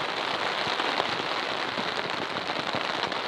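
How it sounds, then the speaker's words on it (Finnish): Steady rain drums on the fabric of an inexpensive family tent, a dense, even patter heard from inside for a few seconds without any voices. "nyt on sade jatkunut jo."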